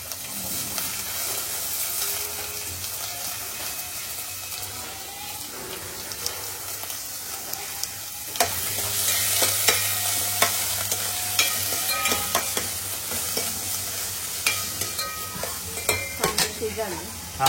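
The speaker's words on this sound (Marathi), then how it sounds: "आणि आता कांद्याची फोडणी देता." Onion tempering for an oyster masala sizzles and crackles steadily in hot oil, growing louder about halfway through as more goes into the pan and sharp stirring clinks break through the frying.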